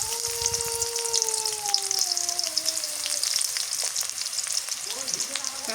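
Onions sizzle steadily in hot oil in a pan, a loud, continuous hiss throughout, with a voice speaking briefly over the frying near the start.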